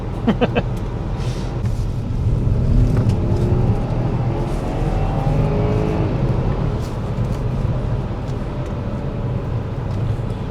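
A Porsche Cayenne Turbo 955 in sport mode rounds corners, its engine humming steadily from inside the cabin with road rumble and shifting tones, no talk over it.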